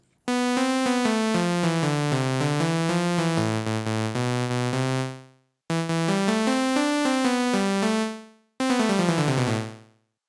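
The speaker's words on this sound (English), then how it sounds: "It's just one single sawtooth wave, and again, nothing crazy going on with the filter." Single sawtooth-wave synth lead with resonant filter playing a hyperpop-flavored techno melody, three bright phrases of stepping and gliding notes separated by brief gaps, loud and alone.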